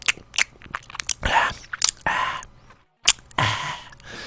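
Crunchy chewing and biting of food, heard close up in several bursts with brief pauses between, fairly loud and without talk.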